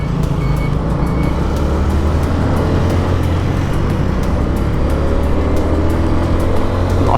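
A nearby TMX 155 motorcycle engine roars loudly and steadily with a deep rumbling drone, while traffic noise mixes in on the road.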